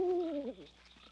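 A person imitates an owl's call with two smooth, descending hooting coos that fade, fairly close, with faint background noise afterward.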